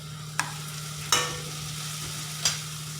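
Green chillies sizzle in a frying pan with onions while being cooked for puffed rice poha, a steady soft frying hiss broken by three sharp scraping stirs of a spoon against the pan, with no talking.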